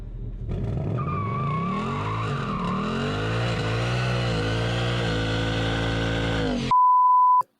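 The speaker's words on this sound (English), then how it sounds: "Just pull up a clip of a burnout." A loud, sustained screech of tires spinning against pavement over a revving engine, ending with a brief steady beep.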